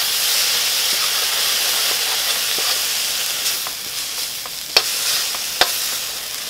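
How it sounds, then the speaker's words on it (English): Flour cooking into a roux in a hot pan on medium heat gives a close, steady sizzling hiss with light stirring scrapes and a couple of sharp clicks from the pan, with no talking. "I'm going to add the flour for a roux."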